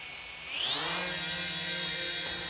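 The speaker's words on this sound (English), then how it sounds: "Here's a quick little indoor test flight, just a couple of feet up and a couple of feet back down." Holy Stone HS-110D toy drone spinning up indoors, its high whine rising in pitch and then holding a steady, loud buzz near the listener.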